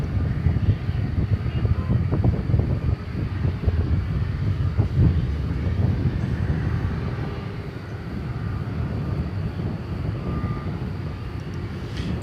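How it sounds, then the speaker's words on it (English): A UPS Airbus A300 jet passes at DFW Airport at night, giving a continuous, moderately loud rumbling roar with a broad low-end wash that stays steady and fades a little midway. "A300s for you next. Both UPS."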